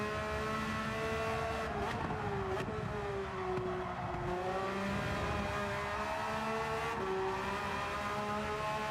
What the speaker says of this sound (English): BRZ carries so much speed through the S's.